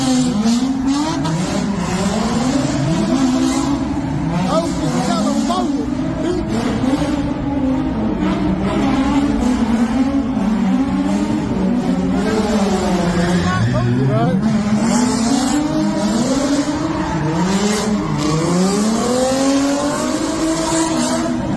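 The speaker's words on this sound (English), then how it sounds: "that's another one of those cars spinning in the middle of an intersection" A car spinning donuts in the middle of an intersection during a street takeover, its engine revving up and down in repeated sweeping waves with tire squeal, loud and continuous while people talk nearby.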